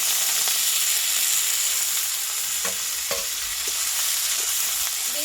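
Chopped betho greens frying in oil with panch phoron and a slit green chilli, a constant close sizzle with a few light stirring clinks and scrapes, no voices.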